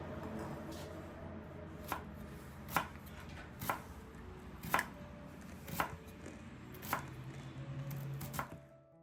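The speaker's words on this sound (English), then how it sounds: "Dicing the onions helps them cook evenly" A knife dices onions on a cutting board in a quiet kitchen: sharp, evenly spaced chops, about one per second, each a crisp close knock with nothing else sounding.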